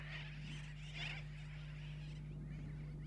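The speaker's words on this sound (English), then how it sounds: "The silence is pierced by a terrible noise, and the sky is transformed into a sea of flapping wings." Seabirds of the Florida Keys calling from a colony, with harsh, goose-like squawks and cries over a steady low hum, faint and somewhat distant, no speech.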